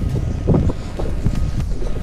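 Steady wind buffeting the microphone on a lake during a walleye fishing trip from a boat, a continuous low rumble with gusty swells and no talk.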